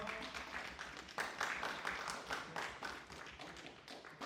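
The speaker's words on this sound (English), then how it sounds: "Yes, round of applause, round of applause." A small audience at an indoor gathering claps in a loose, uneven burst of applause. The hand claps are close, fairly faint and taper off near the end.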